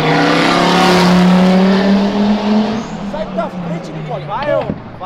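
A car engine revs hard and accelerates away, its rising whine fading into the distance while tires squeal faintly at the end.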